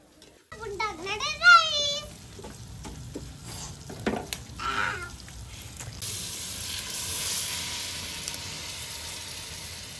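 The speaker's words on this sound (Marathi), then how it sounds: "आता इथं छानपैकी आपण प्रॉन्स हे परतून घेणार आहोत" Prawns fry in a pan over a wood-fired stove, with stirring scrapes giving way to a loud, steady hiss of sizzling oil, and a voice is heard briefly at the start.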